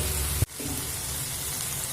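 Vegetables and spices fry in mustard oil over a medium flame for a mixed vegetable chorchori, a steady close hissing sizzle broken by one brief dip partway through.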